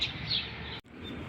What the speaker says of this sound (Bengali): দেখতে পাচ্ছেন সকালের যে পাখি ডাকতেছে।